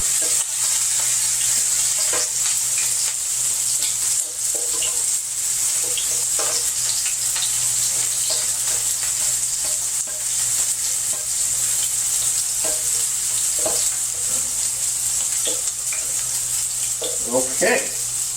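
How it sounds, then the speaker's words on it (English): Onions saute in hot oil in a pan, a constant close sizzle with occasional stirring scrapes, a low steady hum and a few faint words now and then. "I'm going to start off by putting the onions in here."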